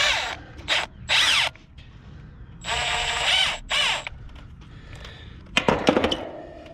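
A power drill fitted with a 5/16 bit tightens a screw on a Carrier winter start kit and head pressure control, firing in several short whirring bursts and one longer run, with ratcheting clicks and clatter in between.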